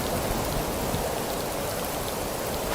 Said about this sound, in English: That's when you know stuff is real, when it's that old sideways rain.